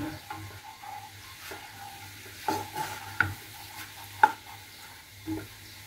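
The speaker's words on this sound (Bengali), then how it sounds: "এখানে ধনিয়া পাতাটা আমি সিদ্ধ করে নিচ্ছি।" Coriander leaves cook in a pot of water, giving a soft, steady bubbling sizzle broken by a few sharp metallic clinks of a spoon against the pot.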